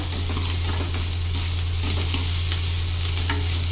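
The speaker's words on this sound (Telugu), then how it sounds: "పచ్చివాసన అయ్యేంత వరకు అయితే కలపాలి" Ginger is stirred into an onion and egg curry in a hot pan, with a steady, even sizzle of frying and soft scraping stirs running continuously, close and moderately loud.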